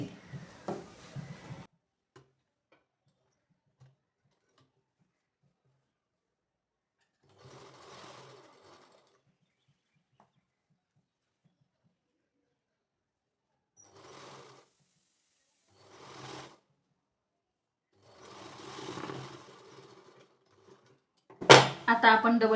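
A sewing machine stitches a kurti sleeve onto a panel kurti in several short bursts separated by quiet pauses, with a louder, closer run at the end.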